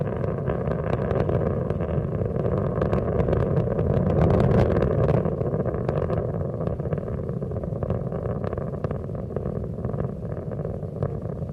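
The three liquid-fuel main engines of Space Shuttle Endeavour, throttling back in three steps to 72% of rated performance, roar in a dense, continuous thunderous rumble during launch ascent, loud and sustained with no voices.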